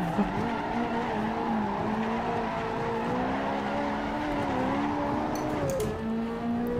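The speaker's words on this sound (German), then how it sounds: "Driften mit Semislicks im vierten Gang, gar kein Problem" Tyres squealing in a long, sustained skid as a Ferrari 458 Italia on semi-slicks drifts in fourth gear on the Nordschleife in Assetto Corsa, the engine droning beneath with pitch rising and falling, loud and continuous.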